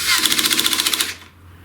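A power driver tightening screws into the gantry of a QueenAnt PRO V2 CNC router, a loud close burst of rapid, evenly spaced clicking ratchets for about a second before stopping.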